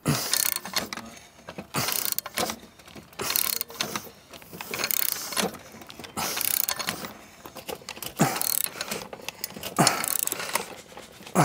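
A new bearing is screwed into place with a hand tool, the ratcheting clicks and grinding mechanical strain repeating in uneven bursts close by, tightening as it resists.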